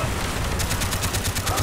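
Rapid automatic gunfire crackles in the Call of Duty Black Ops video game, a dense fusillade of close, loud shots firing in quick rhythmic bursts over game noise.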